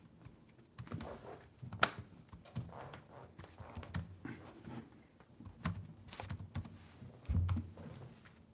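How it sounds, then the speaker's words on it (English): Computer keyboard typing during a home livestream, scattered soft key clicks in short uneven bursts at close range, quiet against a faint room hum with no talking. "If you see me typing"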